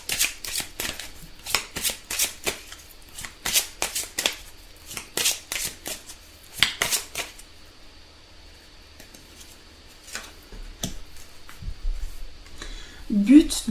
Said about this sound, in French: on va tirer une petite carte des messages des anges